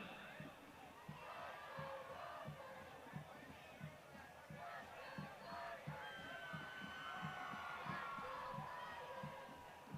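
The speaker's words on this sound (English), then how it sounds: "Hear the crowd a little bit, trying to pump up the the Tigers defense" A high school football crowd in the stands cheers and chants to rally the Tigers defense. It is a steady, distant roar with a rhythmic pulse and scattered shouts, and there is no clear speech.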